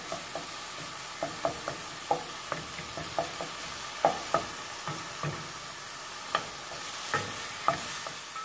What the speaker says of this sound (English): Now I'm just going to give everything a good mix and continue browning and cooking the ground turkey.